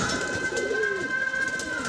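Andhra and Madrasi breed pigeons coo softly nearby as they come down to feed, a low rolling burble with a faint steady whine in the background.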